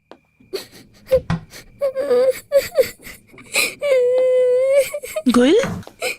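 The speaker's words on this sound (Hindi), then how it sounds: "देख नहीं रही वो कितना रो रही है" A little girl cries and wails in loud, broken sobs with gasps and drawn-out moans, while someone speaks to her between the cries in an indoor drama scene.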